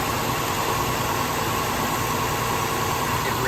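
A warmed-up car engine idles in a steady, even drone with a broad hiss, the idle raised slightly after its intake air temperature sensor is disconnected, with no clear change across the few seconds.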